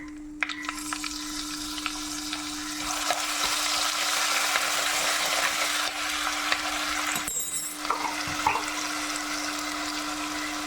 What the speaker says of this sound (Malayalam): ഉലുവ പൊട്ടിക്കഴിയുമ്പോൾ 1 ടേബിൾ സ്പൂണ് ഇഞ്ചി വെളുത്തുള്ളി പേസ്റ്റ്